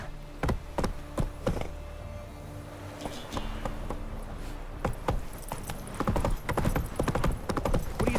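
In The Witcher 3: Wild Hunt, a horse gallops with a steady rhythmic pounding of hooves that grows busier toward the end, over soft game ambience and sustained background tones.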